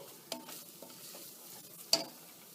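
Onions, ginger and garlic frying in a pan for yellow lentil daal with fenugreek and spinach, a faint low sizzle with two or three brief spoon scrapes, one sharper clink near the end, quiet and close.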